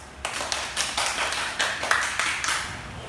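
Applause from a classroom of students for the groups, a scattered run of separate hand claps with an uneven rhythm, fairly close and moderately loud, no talking over it.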